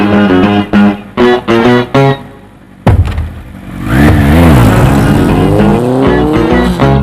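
A motorbike engine roars and revs up loudly, its pitch rising and falling in sweeps after a few short bursts of sound.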